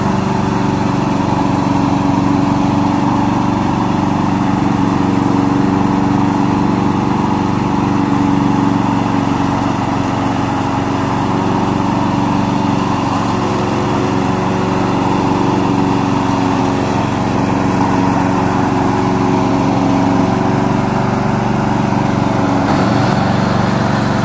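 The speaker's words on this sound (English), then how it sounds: "Today I'm going to introduce our remote control lawnmower." A small remote-control lawn mower engine drones steadily and continuously at close range, an even mechanical hum with no speech.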